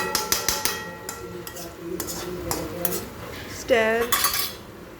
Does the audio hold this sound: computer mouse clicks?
no